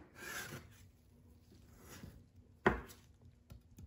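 A kitchen knife cuts raw carrots into quarters on a board for homemade tomato soup, soft scraping and rubbing strokes followed by one sharp chop, quiet and close with no talk.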